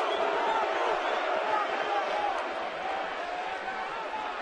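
At a Boston at San Francisco baseball game, a stadium crowd lets out a brief rising cheer and murmur after the home plate umpire calls a high strike, heard at a distance behind a commentator's voice.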